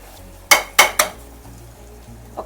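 Cluster beans curry with green chillies being stirred in a pan: three sharp metallic clinks of a utensil against the pan in quick succession, then a faint soft scrape, fairly close, with no voices.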